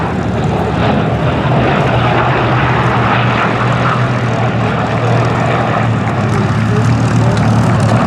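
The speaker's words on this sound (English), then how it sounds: "Beautiful sound around there, the Bearcat and the two Corsairs, I suppose." A Grumman Bearcat and two Corsair warbirds fly past at the Flying Legends air show at Duxford, their piston engines making a loud, continuous, rumbling roar with no pause.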